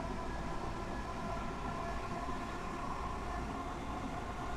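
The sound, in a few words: Class 465 electric train running, Train Sim World 3 video game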